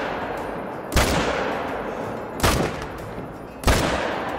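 Three sharp rifle shots from an M1 in the hunting game Call of the Wild crack loud and close, spaced about a second and a half apart, and each one trails off into a short decaying echo.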